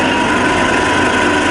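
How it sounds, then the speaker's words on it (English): A TFY milling machine's variable speed head running in low range at around 50 RPM: a loud, steady mechanical whine and hum held continuously at close range. "the variable speed head being tested now"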